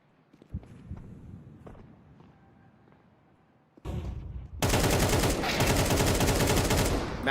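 Gunfire in a Counter-Strike match: scattered footsteps and a few isolated shots at first, then a dense, loud, sustained barrage of rapid firing filling the last few seconds.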